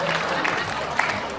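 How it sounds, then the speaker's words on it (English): Audience clapping and crowd noise at a stand-up comedy show, a steady wash of applause with a few sharper claps standing out. "You hear that hunger clap?"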